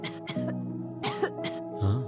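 Several coughs and throat clearings from one person come in short separate bursts, close and fairly loud, with brief pauses between them.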